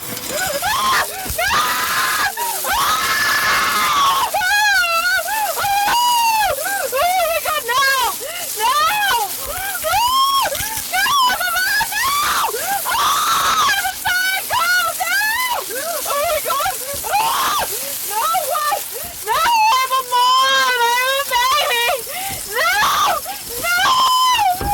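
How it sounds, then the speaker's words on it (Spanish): A young woman screams repeatedly at night while being dragged through grass, loud wavering shrieks in rapid bursts over rustling, scraping noise, with a low voice also present. "Los gritos de la joven se pierden en la noche mientras es arrastrada a través de la hierba."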